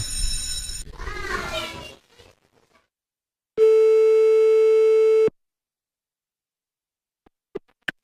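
A voice, then a steady electronic telephone tone sounding for about two seconds, followed by silence and a few faint clicks.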